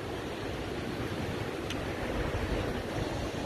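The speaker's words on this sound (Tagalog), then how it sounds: "lakas ng tubig mga kaboard" Strong, rushing river water runs alongside a riverside bike path, a steady, loud broadband roar that stays even and continuous throughout with no pauses.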